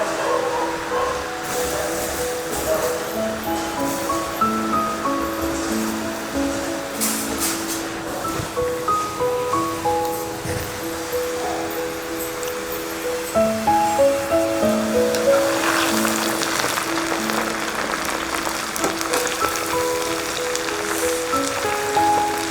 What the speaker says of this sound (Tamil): நல்லா எண்ணெயில் நல்லா பொரிஞ்சு மொறுமொறுன்னு வரணும், அது வரைக்கும் எண்ணெயில் வேக வைக்கணும்.